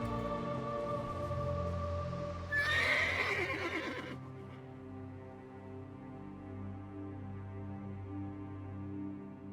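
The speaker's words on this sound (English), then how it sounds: "Come, I acquired horses to speed us on our journey." A horse in the video game Elder Scrolls Online gives a single loud, shrill whinny for just over a second, set against steady, quiet game ambience and sustained background tones.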